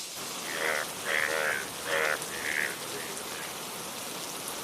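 Steady rain pours down on a house where water is dripping inside. An even, close hiss runs throughout, with a few short tonal bursts rising over it early on.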